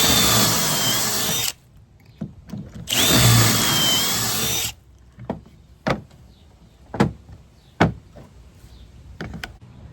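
A power drill bores pocket holes in wooden boards for a backyard ice bucket drink stand, heard as two long, loud runs of whirring drilling, followed by several short sharp knocks and clicks of handling.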